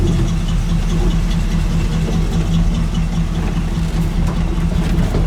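A 1967 Chevy C10 pickup idles steadily nearby, a loud, unbroken low rumble with a slightly uneven, knocking pulse and no voices over it.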